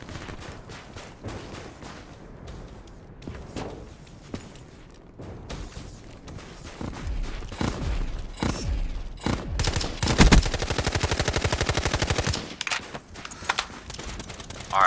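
Gunfire in the Black Ops 3 video game, rapid bursts of automatic shots and scattered single reports, building to a dense sustained volley near the end, loud and close with no speech.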